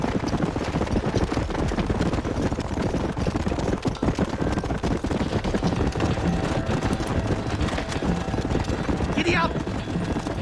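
A horse gallops in Red Dead Redemption, rapid hoofbeats drumming steadily and loudly over outdoor ambience, with a voice briefly speaking near the end.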